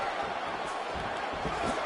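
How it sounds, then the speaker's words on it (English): An arena crowd at a UFC 5 fight roars as a steady, dense wash of noise with a brief swell near the end. A commentator's voice sits faintly beneath it. "You hear this crowd just eating."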